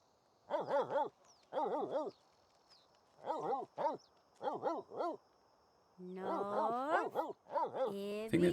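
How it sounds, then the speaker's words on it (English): A cartoonish dog in a city-building video game barks in a few short bursts of two or three yips, ending with a longer whining howl; no talk over it. "I think that's me barking at the weather statue there"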